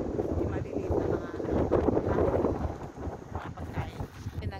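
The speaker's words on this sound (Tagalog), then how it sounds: "Mahangin. Mahangin lang dito." Broadband wind buffeting a microphone outdoors, a steady rushing roar that swells and dips, with faint voices underneath.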